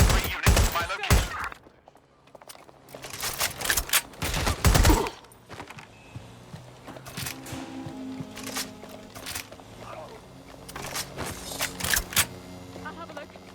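Bursts of gunfire from the video game Watch Dogs Legion, loud volleys and single shots in the first five seconds, then sparser shots and impacts over in-game voice chatter and a low music bed.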